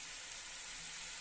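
Steady hiss of hot oil frying in a pan as dry spices go in for a spiny gourd curry, a continuous close sizzle with no talk.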